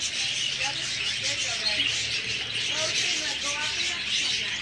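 Small birds chirp inside a birdhouse, quick high tweets repeating near the microphone over a steady hiss, with a person speaking quietly now and then.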